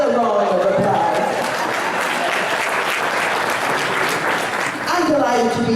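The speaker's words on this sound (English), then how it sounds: "So give them another round of applause." An audience at an African American Caucus meeting breaks into a sustained round of clapping, with a voice heard at the start and again as it ends.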